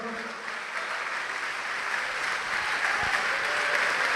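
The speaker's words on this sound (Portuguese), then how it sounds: "Vamos aplaudir o Senhor." A church congregation applauds steadily and loudly during a sermon, a dense, continuous wash of clapping that builds slightly toward the end.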